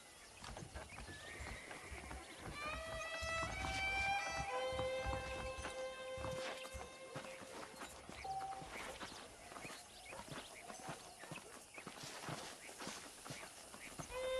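Saddled horses in the video game Red Dead Redemption walk with a steady clip-clop of hooves close by, and a whinny and sustained musical tones rise over them.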